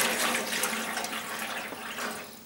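Water sloshes and gurgles steadily as a candle mould is lowered into a five-litre bucket of water, a continuous close splashing wash with no talking.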